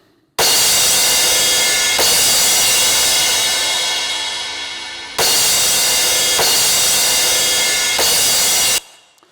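A music sample run through a homemade audio compressor written in Ruby plays loud and dense, with squashed, evened-out peaks, breaking off abruptly near the middle before resuming and then cutting out at the end. No talking.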